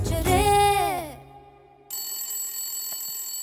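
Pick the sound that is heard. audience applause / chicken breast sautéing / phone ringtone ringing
phone ringtone ringing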